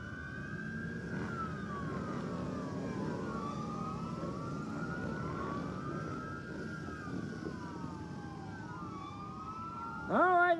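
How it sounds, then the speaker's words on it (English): Several wailing emergency vehicle sirens overlap and rise and fall continuously, heard at a moderate distance at an outdoor thrill show, with a louder horn-like blast at the very end. "Here they come, lights and sirens"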